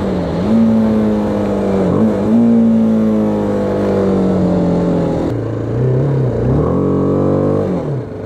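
A BMW G 310 R motorcycle accelerating uphill past 90 km/h, its engine drone rising steadily in pitch with gear shifts, loud and continuous from a rider's perspective.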